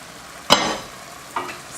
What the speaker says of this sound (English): Stir it around a little bit.